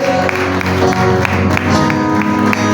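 A church congregation at a Spanish-language worship service gives a sustained round of applause, dense and loud throughout with no pauses, filling the room alone without speech.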